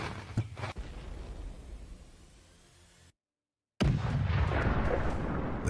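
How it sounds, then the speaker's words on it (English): Gunfire and artillery fire in a combat zone as Russian armored vehicles advance: rumbling blasts and scattered shots over steady battlefield noise, a brief silent gap, then a louder burst of heavy firing. "The fire from Ukrainian soldiers intensifies as more Russian vehicles move closer."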